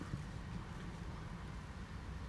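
Severe storm winds in a UK winter, blowing across an exposed car park near the coast, roar steadily and buffet the microphone with a dense, unbroken rumble and no voices.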